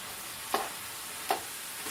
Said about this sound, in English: half a teaspoon of pepper, 1 teaspoon of chili powder. Stir all of that in.